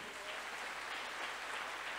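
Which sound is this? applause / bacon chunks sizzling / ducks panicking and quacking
applause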